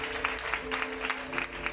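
A church congregation applauds in praise, a soft but even patter of many hands clapping steadily throughout, with a faint sustained musical tone underneath.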